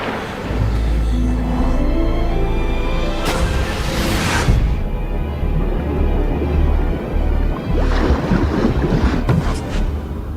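Ocean surf and wind around a sea cliff in a Twilight film scene, a steady loud roar of churning waves with gusty wind noise and bursts of spray throughout, no talking.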